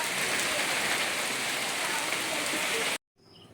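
Heavy rain pouring down in a steady, dense hiss for about three seconds before it cuts off abruptly, with only faint background sound after.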